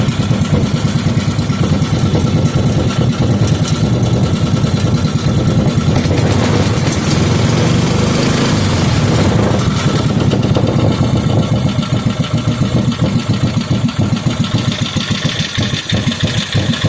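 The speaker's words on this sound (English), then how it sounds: "that is one good running little engine. It just needs the idle adjusted back up a little bit" A 5hp Briggs and Stratton small engine running at idle, loud and close, with a steady rough putter and uneven firing pulses throughout and no voices.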